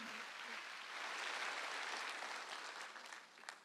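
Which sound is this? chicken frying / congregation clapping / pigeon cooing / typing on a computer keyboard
congregation clapping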